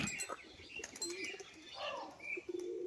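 A crested female pigeon tumbles in flight, its wings giving short, faint bursts of flapping mixed with a few light chirps against an outdoor background.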